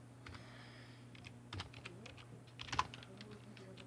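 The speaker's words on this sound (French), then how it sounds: "Désolé si vous entendez encore les bruits comme ça de la souris et du clavier." Computer keyboard keys and a mouse click in scattered soft taps and short bursts during a Minecraft game, faint and close, over a low steady hum.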